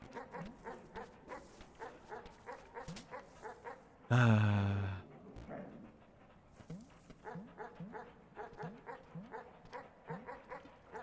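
A dog in a video game pants rhythmically and keeps up a steady run of huffs, broken by one loud sustained tonal blast in the middle.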